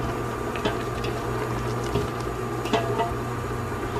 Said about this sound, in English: I'm going to let it simmer for about 4 or 5 minutes